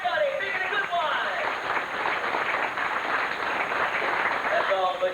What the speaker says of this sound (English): How about a nice round of applause for old Barnacle Butch?